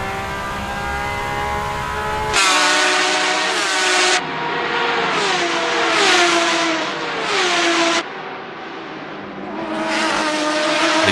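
Racing car engines scream at high revs on the Interlagos circuit in Assetto Corsa in rain, loud and close, rising and dropping through repeated gear shifts and wavering pitch as the cars battle for position.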